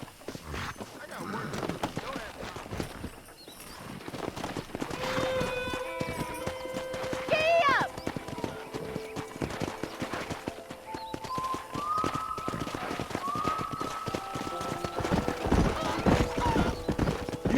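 Horses in the Red Dead Redemption video game clip-clop steadily on hooves while several neighs and whinnies rise up nearby and farther off, an ongoing ranch scene with no talking.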